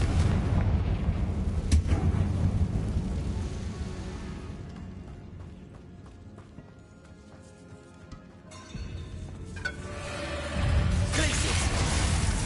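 The Confringo fire spell blasting in Hogwarts Legacy, heavy booming explosions with rumbling low impacts that fade mid-clip and then return, with a voice talking.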